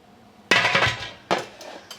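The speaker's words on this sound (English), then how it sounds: "Put the lid on." A metal lid goes onto a pressure canner with a loud, close clatter, followed by a second scraping clank as it settles and a faint final tap.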